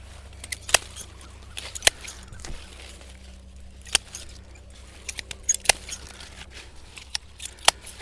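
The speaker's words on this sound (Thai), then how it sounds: "ตัดทิ้งได้กิ่งเล็กด้านในตัดทิ้งได้" Pruning shears snipping small inner branches of a red-fleshed guava tree, sharp scattered clicks and snaps at irregular intervals over a quiet outdoor background hum.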